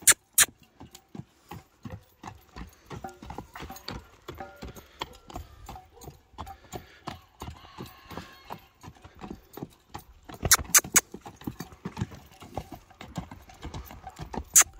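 Steady clip-clop of horse hooves, close and rhythmic, with a few sharper clacks near the end; no voices.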